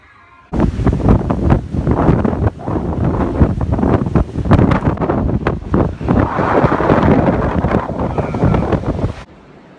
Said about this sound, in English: the wind, it's so windy today